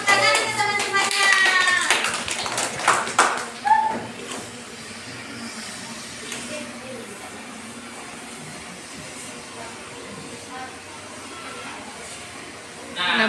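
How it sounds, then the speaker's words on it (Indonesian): Primary schoolchildren in a classroom group guidance session clap for their classmates, a brisk burst of many hands for about four seconds, then fading into quiet room noise with faint voices. "Tepuk tangan ke teman-temannya."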